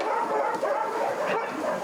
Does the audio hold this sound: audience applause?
no